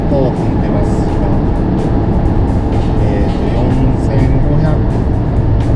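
A Suzuki Jimny XC (JB64W) climbing a highway slope at about 100 km/h with the accelerator pressed hard near 4000–4500 rpm, giving a loud, steady engine and road drone that fills the whole stretch without letup.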